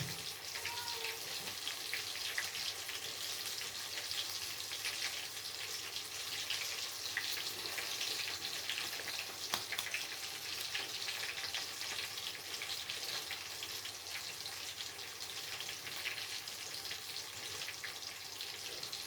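Lahori-style besan-battered fish frying in hot oil, a steady dense sizzle that holds at an even level throughout with no voices, close by.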